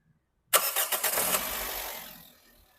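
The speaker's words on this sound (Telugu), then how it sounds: "సింగిల్ సెల్ఫ్లో బండి స్టార్ట్ అవుతుంది" A 2011 Toyota Etios G petrol car starts on a single crank: a short, loud whirring catch that quickly settles into a smooth, quiet idle, heard up close.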